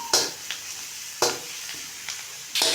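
Garlic and onion sauté in a hot pan, sizzling steadily with loud stirring scrapes and clatters recurring every second or so, close and with no talk.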